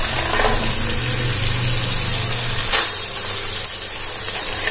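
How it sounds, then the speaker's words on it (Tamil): Green peas going into a frying coconut-milk pulao base in oil, giving a continuous loud close sizzle with light stirring scrapes and a brief clatter partway through; no talk. "லைட்டாக போனதுக்கப்புறம் நம்ம பச்சை பட்டாணி ஆட் பண்ணிக்கிறோம்."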